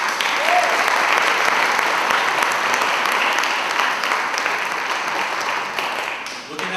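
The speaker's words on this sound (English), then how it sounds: "So let's give them a round of applause." An audience at a high school honor society induction ceremony breaks into sustained, dense applause that stays loud before tapering slightly at the end.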